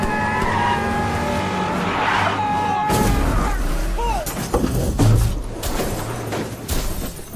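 A car accelerates hard with tires squealing and skidding, the engine roaring loudly up close, while voices speak over the opening seconds.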